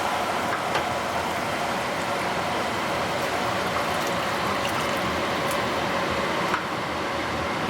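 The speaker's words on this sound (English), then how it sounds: "so now I'm going to add 2 cups of water." Two cups of water pour onto toasted quinoa in a pot, a steady, continuous rushing splash with no talk over it.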